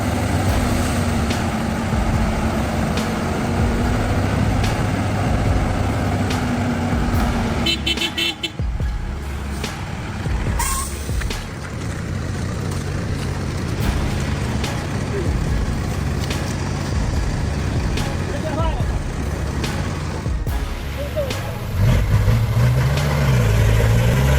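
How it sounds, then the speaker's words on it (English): Heavily loaded three-axle truck carrying acacia logs labouring on a muddy, slippery road, its engine droning and straining loudly throughout, with a horn toot, other vehicle noise and people talking over it. "the giant three-axle vehicle, loaded with towering acacia logs, is struggling on the muddy, slippery road"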